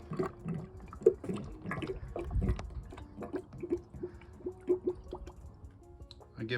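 Fuel treatment poured from a bottle into the fuel tank of a Toyota Venza, an irregular gurgling trickle with glugging drips close by.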